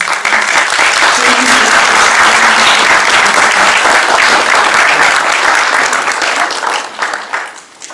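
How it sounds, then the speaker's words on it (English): An audience at a university science lecture on gravity breaks into loud, sustained applause, a dense wash of clapping that holds steady and then tapers off near the end. "Let's give him an applause."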